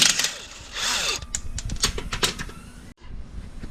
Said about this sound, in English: Next, I'll remove the bolt off the steering knuckle.